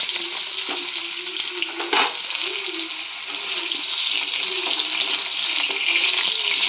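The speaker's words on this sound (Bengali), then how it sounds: "আলুগুলো হালকা করে ভেজে নেব।" Potatoes sizzle lightly in a pan of hot oil, a steady close frying hiss with a brief louder burst near the middle, no talk over it.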